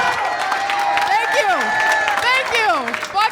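A comedy club audience at The La Jolla Comedy Store breaks into loud, sustained applause mixed with whoops and high cheering voices, the crowd noise filling the whole stretch without pause.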